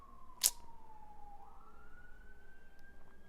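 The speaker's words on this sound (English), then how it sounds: "Oh, there's the fucking ambulance or whatever." An ambulance siren passes outside, a faint, distant wailing tone that slowly rises and falls over a low background rumble, with a brief sharp knock near the start.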